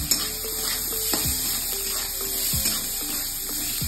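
Pumpkin curry seasoned with turmeric and sugar being stirred in a pan over a high to medium flame, with a steady sizzle and occasional spoon scrapes against the pan, fairly close and without talk.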